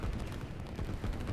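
Artillery fire in the Line War strategy video game, a dense stretch of rumbling booms and crackling blasts packed closely together, loud and continuous throughout.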